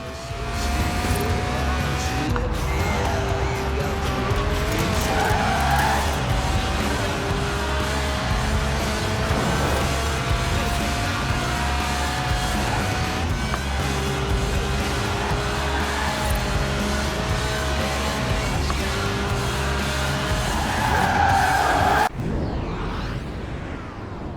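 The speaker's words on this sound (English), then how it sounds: "The honourable art of drifting." A car drifts in Forza Horizon 4, its engine roaring loud and continuous with rising and falling revs and squealing tire skids through the corners, cutting off abruptly near the end.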